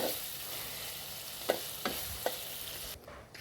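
Fish sizzling in hot oil in a pan with turmeric and chili powder, a steady close hiss with a few sharp clinks of a utensil stirring, quieting briefly near the end.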